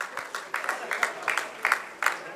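Audience applause at a Jain religious discourse honouring a family, a steady wash of clapping with some louder bursts, fairly close and without any talking.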